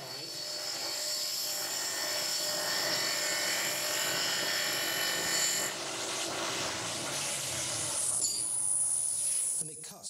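A shell-shaped wooden box spinning on a lathe while a hollowing tool cuts into it, giving a continuous bright hiss and whine with the motor's hum beneath, steady and close with shifts in tone as the cut changes.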